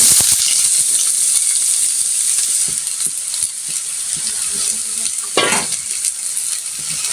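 Pieces of bitter gourd fry in a hot pan with a steady, close hiss of sizzling oil, broken by a few clinks and scrapes of stirring and a brief louder burst near the end.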